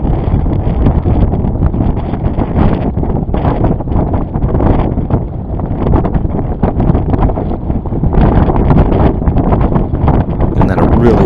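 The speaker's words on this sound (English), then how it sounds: "You can see I'm just getting hit by gust after gust." Strong wind gusts batter a heeling sailboat, roaring as loud, continuous buffeting against the microphone that surges and eases across the clip, with water rushing beneath.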